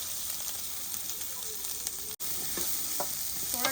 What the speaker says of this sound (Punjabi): ਗਰਮ ਕਰੋ ਤੇਲ ਵਿੱਚ ਪਿਆਜ਼ਾਂ ਨੂੰ